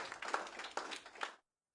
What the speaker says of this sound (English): The sound of applause.